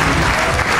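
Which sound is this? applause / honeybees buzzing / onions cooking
applause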